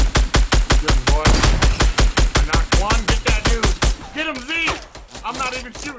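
Rapid automatic gunfire in the Fortnite video game fires in a steady, loud burst for several seconds and then stops, leaving a speaking voice alone.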